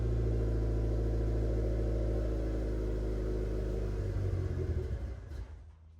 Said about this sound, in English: I started up my car